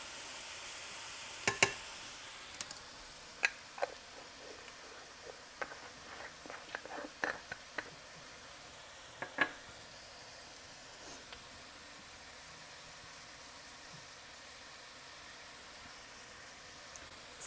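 Onions sweating with salt in a soup pot for lentil mango soup, a faint steady sizzle and hiss with scattered soft clicks and scrapes of stirring, no talking.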